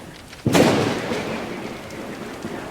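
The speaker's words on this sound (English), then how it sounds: "a mighty storm blew across the bay" A storm sound effect opens with a sudden, loud thunder crack that rumbles and slowly fades into steady rain hiss.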